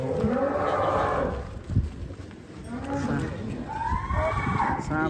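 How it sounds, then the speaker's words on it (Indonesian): A giant cow moos loudly and close by, with long, deep lowing calls, and people can be heard around it. "Naik sapi raksasa guys."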